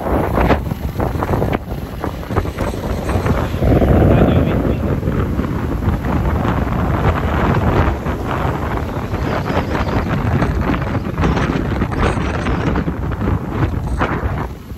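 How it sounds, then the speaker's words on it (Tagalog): Strong wind near windmills during a motorbike ride, a loud continuous roar buffeting the microphone for the whole stretch, swelling and easing in gusts with no clear voices. "malakas ang hangin"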